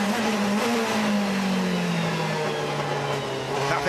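DTM race cars lapping Brands Hatch give a loud, continuous engine drone whose pitch slowly falls as a car passes, with another engine layered over it, heard from near the track.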